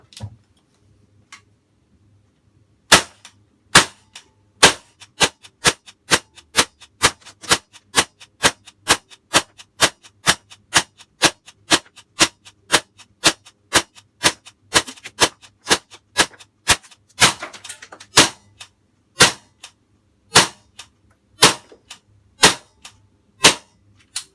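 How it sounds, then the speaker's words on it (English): A Tokyo Marui M4 MWS gas airsoft rifle fires about 35 BBs from one magazine fill, sharp, loud, close single shots in a steady semi-automatic rhythm with a few quicker pairs, over a near-silent background. "We're going to test the gas efficiency of the magazine, so in other words, seeing how many BBs we can fire to one fill of gas."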